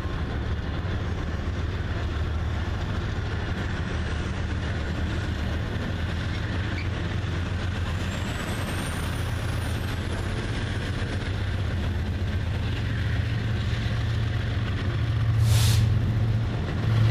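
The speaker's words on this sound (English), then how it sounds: "these BNSF trains race out of the yard" BNSF freight trains, including a manifest freight led by an ex-Santa Fe AC-44, pull out of Argentine Yard in Kansas City with a steady, loud rumble and a brief sharp hiss near the end.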